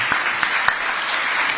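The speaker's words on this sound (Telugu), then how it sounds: "అందరు చప్పట్లు కొట్టండి మరి" Steady applause from an audience fills the whole stretch, with many hands clapping together in a dense, continuous patter, close and fairly loud.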